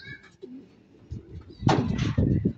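Young racing pigeon arriving at the loft after a 60 km race from San Pablo, Laguna: faint wing flutters and scuffles, then a louder burst of flapping and movement near the end, with soft voices around.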